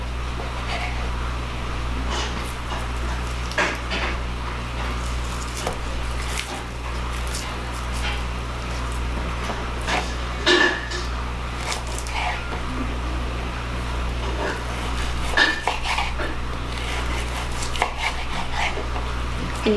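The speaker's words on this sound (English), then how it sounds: "So I am just slicing this against the grain" A knife slicing steak against the grain into thin strips for cheesesteaks, repeated soft cutting strokes against a board over a steady low hum, continuing throughout.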